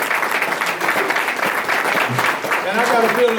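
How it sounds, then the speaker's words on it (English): Luncheon audience at a Chamber of Commerce Black History event applauding a guest, loud dense clapping throughout with some voices mixed in. "Let's give Vernon a round of applause."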